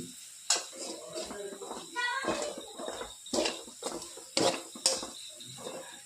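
A spoon stirs and mixes ingredients in a pan for Maggi noodles, giving irregular metallic scrapes and clinks with soft sizzling underneath while a person talks over it.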